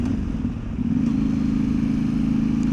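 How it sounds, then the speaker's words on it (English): A Yamaha Tenere 700 motorcycle with an aftermarket AliExpress exhaust is ridden on a cruise, giving a steady, loud, close engine drone with a brief dip before settling into a constant throb. "Listening to this exhaust."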